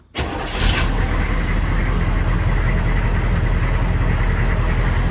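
A Hummer H1 diesel engine cranks briefly after a moment of quiet, catches, and settles into a loud, steady rumbling idle heard up close.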